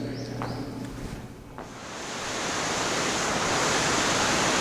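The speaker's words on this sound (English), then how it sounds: "outside the park there's kind of a measly waterfall" Small waterfall outside a park in Kagoshima, Japan, a steady rushing wash of falling water that swells louder after a brief dip and continues alone.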